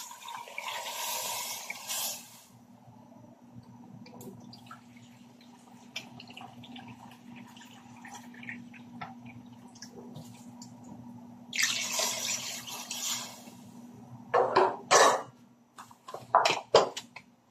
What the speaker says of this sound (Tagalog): Lalagyan ko lang po ng tubig.